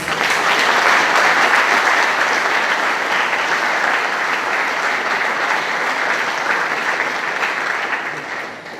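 A large audience at a political evening in Kranj applauds three speakers, a loud, sustained roar of clapping that swells early and then tapers gently toward the end.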